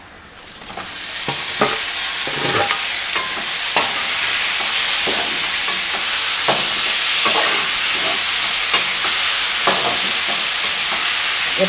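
Four large chopped tomatoes fry in a pan for vanjaram karuvadu thokku, a dried seer fish dish, giving a steady close sizzle broken by regular scraping stirs, with no talk.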